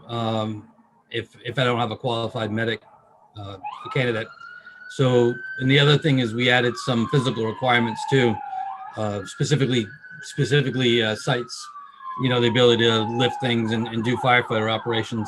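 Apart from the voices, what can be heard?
emergency vehicle sirens passing outside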